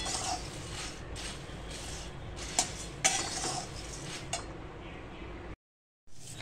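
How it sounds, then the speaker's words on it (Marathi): Puffed rice being stir-fried in a pan with a little oil and turmeric for bhel, giving a continuous close rustling sizzle with a few sharp spoon clinks against the pan, then a brief drop to silence. "हे अशा प्रकारे आपण आता चिरमुरे परतून घेतोय"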